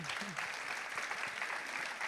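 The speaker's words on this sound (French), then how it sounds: "Vous pouvez l'applaudir." An audience applauds at a women's event, with dense, steady clapping that is faint and distant and continues unbroken through the short moment, with a voice briefly heard at the start.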